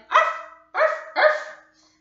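Dog barking in a children's farm-animal song, three clear, close barks in quick succession, the second and third nearly back to back, with no talking over them.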